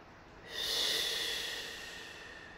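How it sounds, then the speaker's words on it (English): One deep breath drawn in close to the microphone, a breathy rush that swells quickly and then slowly fades over a couple of seconds. "we're gonna take four deep breaths"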